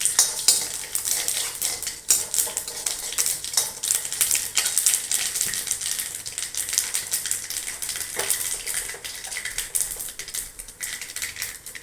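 Mustard seeds and dal fry in hot oil in a pan for beetroot poriyal, a busy, continuous crackling sizzle with scattered pops and scraping under a fairly quiet overall level.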